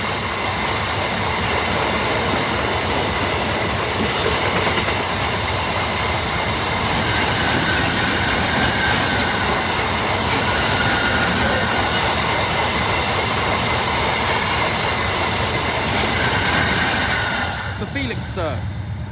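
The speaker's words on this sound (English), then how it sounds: "Train" A Class 69 diesel locomotive hauling sand wagons rolls past a level crossing, a loud, continuous rumble with clickety-clack wheel noise and brief squeals, steady throughout and fading slightly at the very end; voices are faintly heard in the background.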